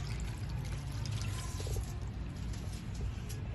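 A glass of milk is poured into a pot of spiced raw chicken for chicken masala. The pour makes a soft, continuous, fairly quiet gurgling trickle with no talking.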